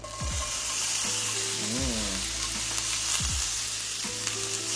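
Bell peppers frying in olive oil in a hot pan, giving a constant bright sizzle with occasional low knocks of the pan and utensil, and no talking.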